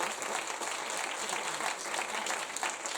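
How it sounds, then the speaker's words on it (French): An audience at a regional panel event applauds with steady, dense clapping of moderate loudness that continues evenly throughout without any talk. "J'espère que vous vous applaudissez."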